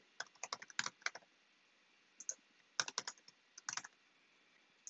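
Custom messages being typed on a computer keyboard produce crisp, close key clicks in quick irregular bursts separated by short pauses, heard alone with no talking.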